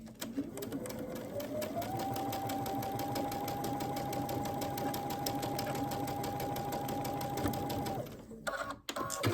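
A sewing machine runs a quarter-inch seam through a quilt block, its motor speeding up into a steady, close whirr of rapid stitching that lasts several seconds before stopping abruptly, followed by a few small clicks.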